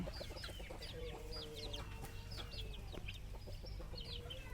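Chickens at a poultry farm cluck and chirp continuously in a dense flock, with many overlapping short calls at moderate distance over steady low barn noise.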